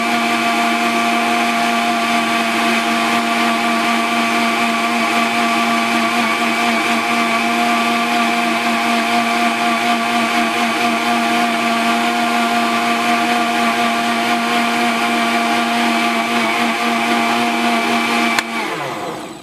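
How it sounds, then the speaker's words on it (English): Blender running continuously at high speed while blending aloe vera juice, a loud, steady motor whine close by that stops abruptly just before the end. "you guys don't want to sit back and listen to all this blender noise in your ears"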